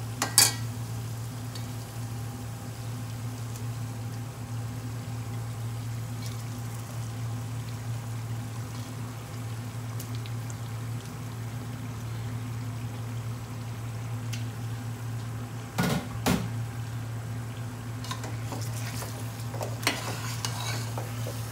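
Lamb chops frying in oil and spices for a curry, a steady low sizzle with a constant hum underneath and a couple of brief utensil knocks near the middle and start.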